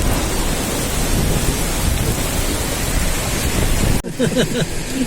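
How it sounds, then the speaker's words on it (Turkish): Walnut-sized hail falls in a dense, loud, continuous roar during a May storm in Diyarbakır, Turkey, then the din abruptly drops away near the end, leaving quieter background with a voice. "ömrü hayatımda böyle bir dolu görmedim"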